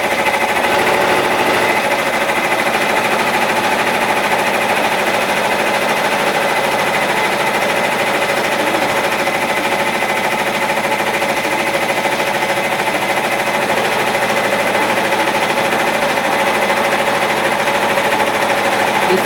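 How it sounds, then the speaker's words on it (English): An embroidery machine stitches continuously at 800 stitches per minute, making a loud, dense, fast mechanical chatter that holds steady and unbroken for the whole stretch, with no talking over it. "I just moved the speed up because it was on 600 stitches per minute."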